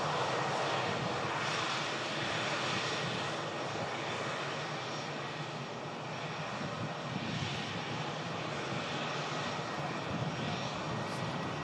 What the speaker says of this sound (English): Hainan continuing the taxi in front of this aircraft